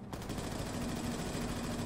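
Gunfire in the shooter game Wolfenstein II: The New Colossus, a dense, continuous rattle of rapid machine-gun shots filling the whole stretch at a quiet level, with no clear voices.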